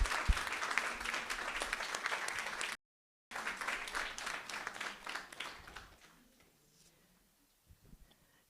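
An audience at a French scientific conference on anxious school refusal breaks into sustained applause, dense clapping lasting about six seconds around a brief gap, then tapering to scattered claps and near silence.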